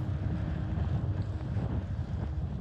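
Steady, loud wind rumbles and buffets the microphone while cycling at night along narrow tarmac roads behind a North Sea dike, a continuous low roar with no talking.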